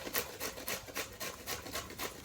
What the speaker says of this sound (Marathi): आणि आता आंब्याचे पण किसायचं काम चालू करणार आहे